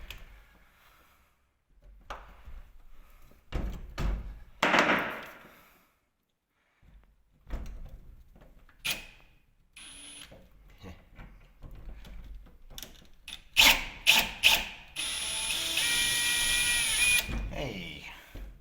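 Old, long-set screws are worked loose with a ratchet tool, giving scattered clicks and clacks at close range and ending in a longer continuous mechanical whirr, with quiet stretches between.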